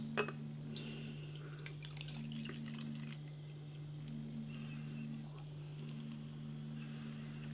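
Hazy amber Glen Affric x Beer Hawk Conquering Mountains NE Double IPA poured from a can into a glass, a soft steady liquid trickle and fizz with faint glass clinks over a steady hum.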